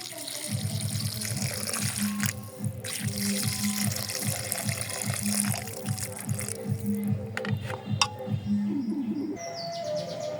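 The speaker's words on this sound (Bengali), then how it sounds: "গরম পানি দিয়ে দিব" Hot water is poured into a pot of lentils with Malabar spinach, a gurgling splashing stream in a home kitchen, while birds chirp steadily in the background.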